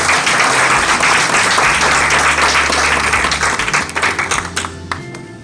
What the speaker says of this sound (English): Another warm round of applause to Madam Nderitu for just inspiring the futu